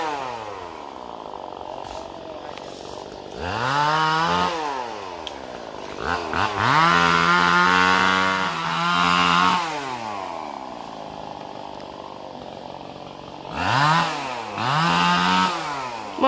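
Chainsaw cutting through rubber trees outdoors: a loud, close engine rising and falling in pitch as it revs, bogs into the wood and eases off, running almost continuously through several cuts.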